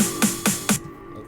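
A copied first note in Ableton Live 9 with a long reverb tail: three quick bright hits in a row, then a soft wash that fades away over the last half second.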